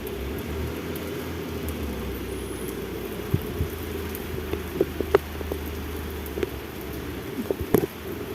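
Steady rain falls on surfaces in Dhaka, a constant soft patter with occasional louder drops and faint traffic rumble beneath, and no voices.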